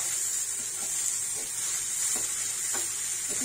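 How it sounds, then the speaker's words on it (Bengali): Thinly sliced onion fries over low heat in a pan while being stirred, giving a continuous close hiss with a few soft scraping strokes. "এবার আঁচটা একটু কম করে দিতে হবে, দিয়ে ভেজে নিতে হবে নেড়ে নেড়ে।"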